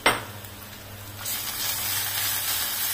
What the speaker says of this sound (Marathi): कांदा छान असा तळलाय. थोडासा आणखी तळते.